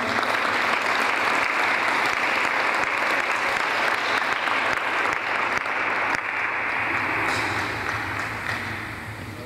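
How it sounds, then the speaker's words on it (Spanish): Audience applause at a census closing ceremony in Patzún, Guatemala, heard as sustained, dense clapping from a nearby crowd that fades slightly at the end. "Aplausos, por favor."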